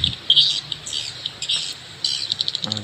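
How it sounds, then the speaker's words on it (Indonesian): Recorded swiftlet calls used to lure birds: repeated high chirps and twittering bursts in irregular clusters, fairly close and clear over a quiet hiss, with a low thud at the start. "Ini sangat mirip dengan suara asli burung walet teman-teman."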